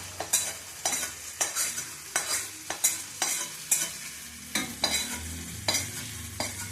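Food frying in hot oil left over from frying aubergine, stirred with a spoon in regular scraping strokes about every half second over a continuous close sizzle.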